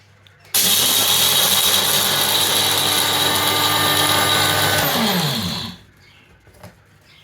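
A Fluto mix grinder with its blender blade whirs up sharply and runs loud and steady for about five seconds grinding dry grains to fine powder, then winds down with a falling whine, close to the listener.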